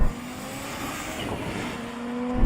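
An Audi Quattro's engine roars steadily as it accelerates hard in a drag race, a loud continuous drone with a rising tone, close by, with no voices.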